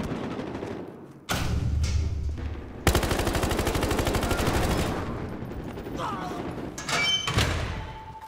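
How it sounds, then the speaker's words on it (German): Heavy gunfire rattles in Battlefield Hardline's Betrayal: Alcatraz episode. Sharp impacts and thuds give way to a sustained, loud automatic burst lasting about two seconds, then scattered shots follow. "Schwerer Beschuss!"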